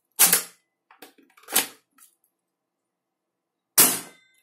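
An airsoft M303 spring pistol is cocked and fired, giving sharp, loud plastic snaps with small clicks of handling between them, three distinct bursts in a quiet setting.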